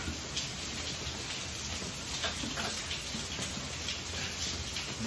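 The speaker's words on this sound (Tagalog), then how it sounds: "Maulan talaga guys." Steady rain falls outside a home kitchen where dried fish is frying, a dense continuous hiss of drops with faint ticking patter, even and unbroken throughout.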